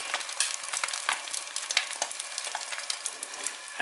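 Omelette frying in a pan while a utensil works around the edges, a steady bright sizzle and crackle running throughout with small scraping bursts, close and alone.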